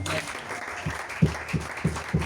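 A church congregation clapping together in a steady rhythm, about one beat every third of a second, with a crowd murmur and voices running under the claps.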